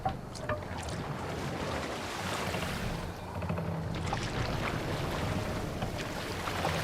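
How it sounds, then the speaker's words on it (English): Oars pulling a longship through choppy water in Assassin's Creed Valhalla, a steady wash of splashing waves and wind with rhythmic swells, moderately loud and continuous. "Need to row our way out."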